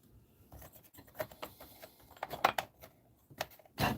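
A pen writes on paper in short bursts of scratchy strokes and taps, close and quiet, with small pauses between marks and no talk.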